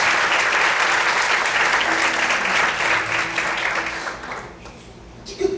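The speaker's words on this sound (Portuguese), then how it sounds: "Você pode aplaudir bem forte assim nessa noite?" A church congregation applauds loudly and steadily, a dense wash of clapping that tapers off near the end as the room quiets.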